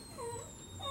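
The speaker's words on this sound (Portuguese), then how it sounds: "Os cachorros estão fazendo uma sinfonia." Dogs whine and moan in drawn-out, wavering tones, a couple of rising and falling wails close by over a low background hum, with no talking.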